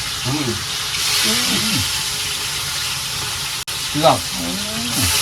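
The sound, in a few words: fish frying in hot oil in a pan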